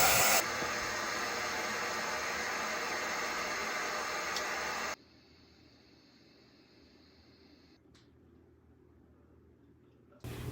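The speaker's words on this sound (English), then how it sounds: "I'll do a quick pressure release." Steam hisses loudly and steadily from an Instant Pot during a quick pressure release, then drops abruptly to a much fainter hiss midway and stays low to the end.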